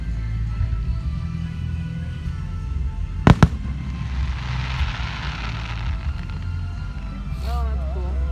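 A fireworks show crackles with a pair of sharp, close firecracker-like bangs, followed by a softer burst of fizzing crackle, over a constant low rumble with faint voices nearby.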